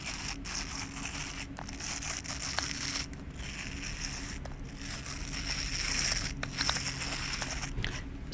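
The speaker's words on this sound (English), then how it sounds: "It is a green translucent pill shape, and it has little brushes inside with bristles" A green translucent pill-shaped fidget toy with bristled brushes inside is squeezed repeatedly, giving close, steady scratchy crinkling and rustling textures broken by brief pauses.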